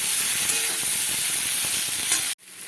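Boiled potatoes with a little turmeric fry in a pan for aloo posto, a loud, close, continuous sizzle that cuts off abruptly near the end.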